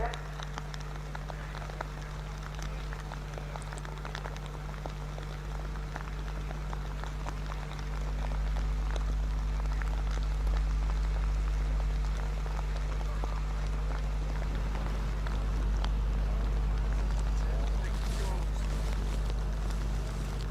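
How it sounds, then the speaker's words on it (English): Steady rain hisses and patters across the Brands Hatch race track, with a low rumble underneath that swells partway through. "the rain falls once again here at Brands Hatch"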